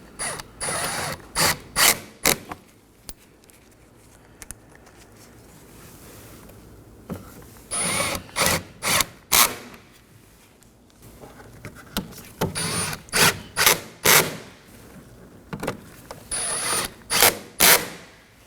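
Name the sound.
ratchet tightening T30 screws on wiper cowl panel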